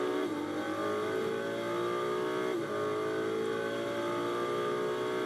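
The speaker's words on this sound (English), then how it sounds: "Over the timing line goes the Ferrari." A Ferrari GT race car at the 24 Hours of Spa endurance race roars steadily past the timing line, a loud sustained engine note with shifting pitch that fills the whole stretch, no talk over it.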